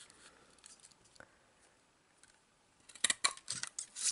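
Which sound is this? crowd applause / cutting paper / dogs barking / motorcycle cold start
cutting paper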